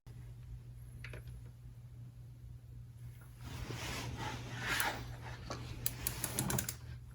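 A torque wrench tightens intake manifold bolts on a 300ZX Turbo, with faint mechanical clicking and ratcheting that builds in the second half against a quiet workshop hum.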